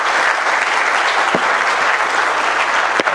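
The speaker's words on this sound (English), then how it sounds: "so would you give him a huge round of applause?" A large audience applauds at the end of a morning session of a talk event, a loud, sustained, even wash of clapping with no voices over it.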